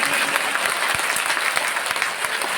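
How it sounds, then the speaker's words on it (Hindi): Audience at a political rally in Madhya Pradesh breaks into steady applause, dense clapping filling the space loudly and evenly throughout. "इनके लिए भी तो ताली बजाओ"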